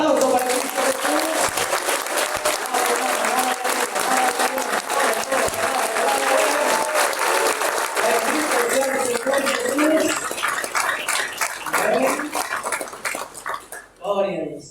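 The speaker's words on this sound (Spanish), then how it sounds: "Aplauso para Cristo Jesús." A church congregation breaks into loud, sustained applause during a worship service at an anniversary campaign, dense clapping throughout with voices calling out over it, tapering near the end.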